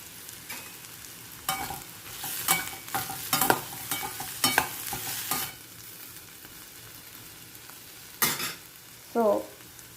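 Sliced snake gourd frying in a pan while a spoon stirs it, with scraping strokes and soft sizzling rising in bursts, a pause, and a few more stirs near the end; up close, no talking.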